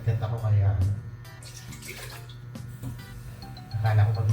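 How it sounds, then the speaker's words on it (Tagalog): Water pours into a cooking pot (kaserola) for soup broth, a steady splashing, gurgling stream that swells loud at the start and end, close by, with a voice talking over it. "maglalagay na tayo na tubig dito sa kaserola"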